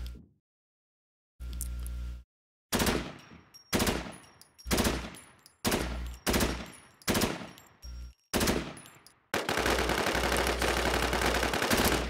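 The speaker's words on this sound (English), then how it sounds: "I'm shooting his fucking feet." Gunfire in the video game Infestation: Survivor Stories: a series of loud, close shots in evenly spaced bursts with brief gaps, ending in a sustained harsh roar of continuous fire.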